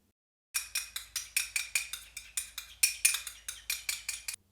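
Crab salad sauce being stirred into shredded crab in a bowl for a mainland-style poke bowl, heard as a steady run of about fifteen quick, close scraping clinks of a utensil against the bowl, with no one talking.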